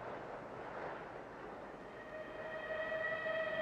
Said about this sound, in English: there's a train running along the railway line down there